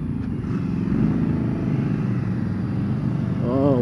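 A 2015 Indian Scout motorcycle engine pulls hard under acceleration in a steady, throaty drone heard from the rider's position, with someone talking over it.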